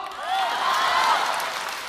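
A theatre audience at a Deyun She crosstalk show at the Beijing Exhibition Hall breaks into applause, a dense, sustained wash of clapping that swells and holds for about two seconds.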